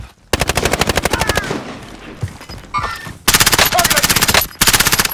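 Bursts of automatic gunfire aimed at the player in a shooter, loud and rapid with sharp repeated shots, pausing in the middle and then returning in long sustained strings, with a voice shouting briefly between bursts.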